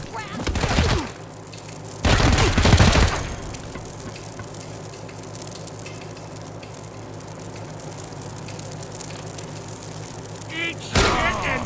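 Wasteland 3 battle gunfire: two loud bursts of rapid shots early on, a long stretch of quieter combat ambience, then another burst at the end, with voices over the fighting.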